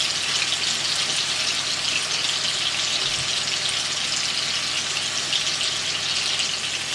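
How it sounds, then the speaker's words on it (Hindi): Chicken fries in just a little oil in a pan, a constant dense hiss and crackle held close and even throughout, with no talking. "यहाँ पर बिल्कुल हल्का सा तेल डाल करके हमने इन्हें फ्राई कर लेना है"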